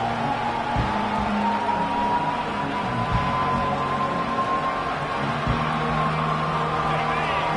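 A large stadium crowd roars in a steady, broad wash of cheering and crowd noise.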